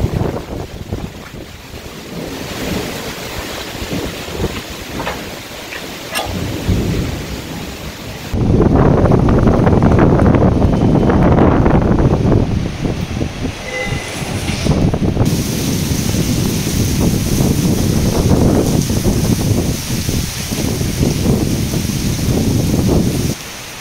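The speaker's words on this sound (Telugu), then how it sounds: "వికారాబాద్ జిల్లా పరిగిలో వాన దంచి కొడుతోంది" Heavy rain driven by gusty winds in Parigi, Vikarabad district, Telangana, a loud continuous roar of downpour and wind buffeting the microphone that grows stronger partway through; no distinct thunder stands out.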